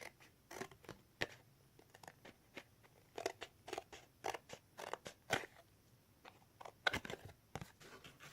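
Scissors cut through a paper gift box, making soft, close, irregular snips and crinkles that come in short bursts with quiet gaps between them.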